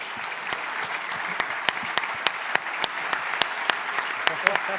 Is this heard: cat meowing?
no